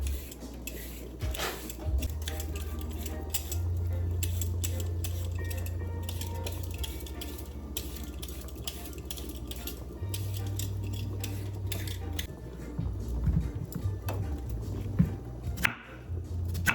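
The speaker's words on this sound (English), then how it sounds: "I'm peeling my coco so it can get going as well" Coco root being peeled with a knife for Jamaican curry crab gives faint, irregular scraping and ticking cuts over a low kitchen hum, with occasional clinks nearby.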